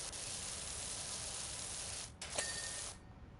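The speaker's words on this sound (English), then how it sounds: "I just spray the fence tops until it tells me which one is good." A pressure washer sprays fence tops in the game PowerWash Simulator, a loud continuous broadband hiss that runs steadily, cuts out briefly twice near the end and then resumes, with no talking.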